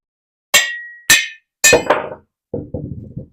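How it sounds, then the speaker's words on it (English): Hammer blows on steel driving a piece through an arbor press while squaring a round hole in metal: five sharp metallic clangs in two groups, the first two ringing brightly, the later ones duller, close and loud with silence between. "I just take a hammer"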